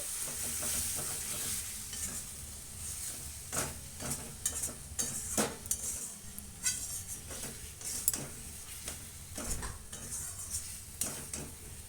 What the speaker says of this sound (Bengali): নাড়তে নাড়তেই টমেটোটা নরম হয়ে যাবে